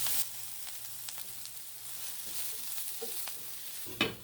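Chopped onions with salt for crab masala sauté in a pan, giving a soft, continuous sizzle with occasional light stirring clicks, quiet and alone.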